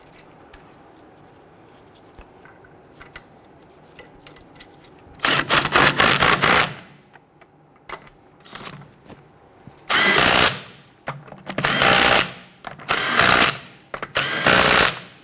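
Impact gun running lug nuts onto a wheel of a 2006-2012 Toyota RAV4 during a rear brake job: several loud, close bursts of whirring and hammering separated by quiet pauses, with no talking.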